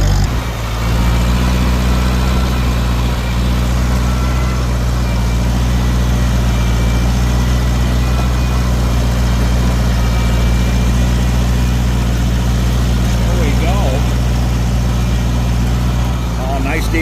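Steam and gas tractor engine pulling a plow at a plow day, a loud, steady low rumble that runs without a break from start to end.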